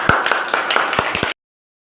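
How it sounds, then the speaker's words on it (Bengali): Children in a first-grade classroom clap loudly, a short burst of several sharp, uneven claps close by that stops abruptly, leaving silence. "জোরে তালি।"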